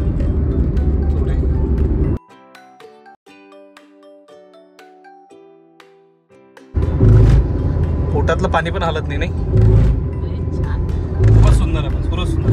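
Car cruising on the Samruddhi Mahamarg expressway, a loud steady road and engine rumble with people talking, broken midway by a few seconds of ringing chime tones before the driving noise returns.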